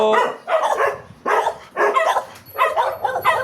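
Household dogs bark at a visiting home-service technician's arrival, a run of four or five loud, close, sharp barks with short gaps between, the last ones clustered quickly together.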